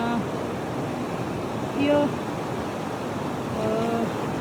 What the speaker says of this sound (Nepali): अनि यहाँ यत्रो नदी सुसाइरहेको छ है।